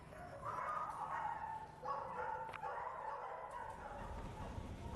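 Puppy barking and yipping, a string of high, rapid yaps at moderate distance over steady background noise, fairly quiet throughout.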